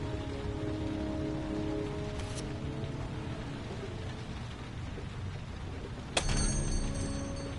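Steady rain falls and patters on surfaces in the video game Heavy Rain, a continuous dense wash of rain with a sharp louder crack or thud near the end.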